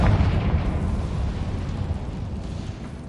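The Confringo fire spell bursts in the Harry Potter video game, a loud, deep rumbling boom that starts at once and slowly fades over about three seconds.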